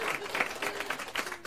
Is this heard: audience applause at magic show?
yes